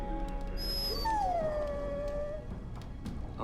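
A dog in Dragon Age: Origins lets out a single drawn-out howl that slides downward and fades, set against a quiet, muffled backdrop with faint ambient noise.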